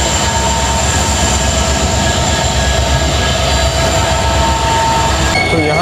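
Train pulled by five locomotives rolling into misty Castle Rock railway station near Dudhsagar falls, a loud continuous rumble of wheels on rails with sustained metallic squeal tones, close and unbroken throughout.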